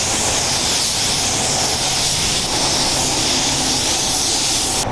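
Primer coat sprayed from a spray gun, a loud steady close hiss of air and paint mist that runs unbroken throughout with no talking.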